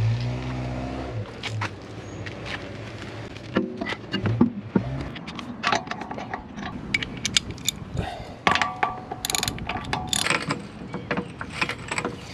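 Ratcheting and mechanical clicking as a wheel is refitted to a VW car, close and irregular, with bursts of pawl clicks, clanks and rattles of tools and parts, preceded by a short low rumble.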